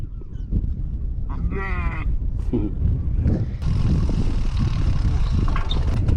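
A sheep bleats loudly nearby in the Netherlands countryside, a wavering cry over rumbling outdoor noise and wind, followed by a brief second call.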